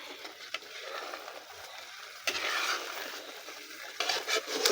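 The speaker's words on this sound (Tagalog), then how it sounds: "Mabigat na siyang haluin. Pabigat na siyang pabigat." A spoon dragging and scraping through thick, heavy jackfruit candy mixture cooking in a pan, soft sticky stirring strokes with a faint sizzle, close and quiet, no voices.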